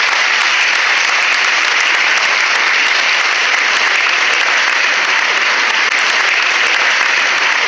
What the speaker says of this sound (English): Please encourage the students with a round of applause.